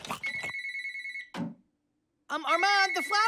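A cartoon telephone rings in bright repeated electronic trills, loud and close, stopping briefly before an animated character's voice speaks over it.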